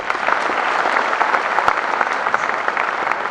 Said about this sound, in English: I'm hearing claps, but I'm hearing very controlled claps